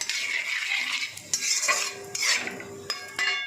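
Cumin seeds sizzle in hot oil while a utensil stirs them in the pan, a bright crackling fry broken by several sharp scraping clinks, close and fairly loud.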